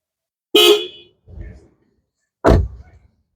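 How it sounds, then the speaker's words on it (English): Aftermarket Farben white horns on a Toyota GR Corolla Circuit Edition give two short, loud honks about two seconds apart, with a fainter thump between them. "So this is how it sounds. The Farben white horns."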